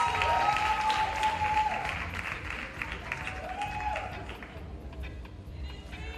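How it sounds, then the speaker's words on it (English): Crowd applause at a performing arts awards ceremony, sustained clapping and cheering that fades gradually over several seconds, with an announcer's amplified voice carrying faintly above it. "Give her a big round of applause"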